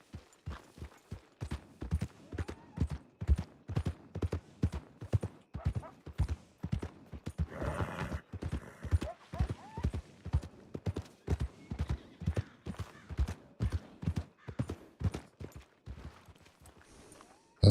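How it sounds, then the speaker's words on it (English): Rhythmic hoof clip-clops ring out from a ridden horse in the western roleplay game Syn County RP, steady evenly spaced strikes at close range, with a brief burst of louder noise midway. "I don't know whose horse this is, but let's see if I can ride it."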